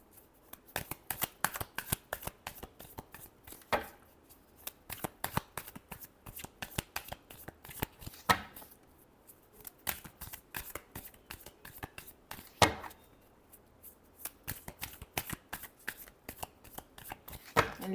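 Tarot cards are shuffled by hand again and again, crisp riffling bursts and soft slaps in irregular runs, close and clear with short pauses between rounds.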